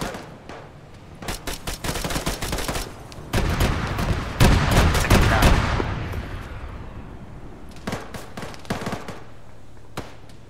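Rapid bursts of automatic gunfire and heavy shots in the Arma 3 military shooter, loud and dense with a big mid-clip barrage, then scattered shots trailing off.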